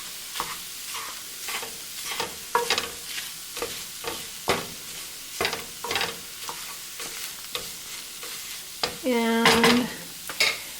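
A tofu scramble with nutritional yeast is stirred in a pan, a series of close scraping and clacking strokes against the pan over a faint sizzle, ending with a brief rising squeak.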